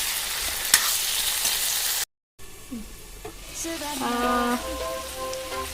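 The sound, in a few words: pumpkin simmering in a pot while cooking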